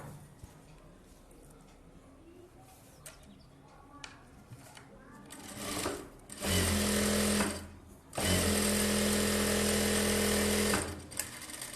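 A tailor's sewing machine stitches blouse fabric in two long, loud, steady runs separated by a brief pause, after quieter handling sounds and someone talking.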